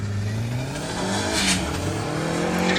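A Renault 5 1.4 turbo race car racing a BMW at a drag event on an airfield in Tulcea. Engines roar and rev steadily at a moderate distance, with a rising engine note and no talk.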